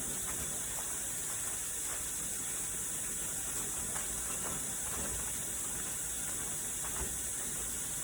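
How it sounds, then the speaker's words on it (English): Steady loud hiss of steam escaping a pressure canner at 15 pounds of pressure while pie pumpkin is processed, with faint intermittent ticks from the gauge jiggling, continuous throughout. "we've reached 15 pounds of pressure. You can see on the dial, and the gauge has started jiggling"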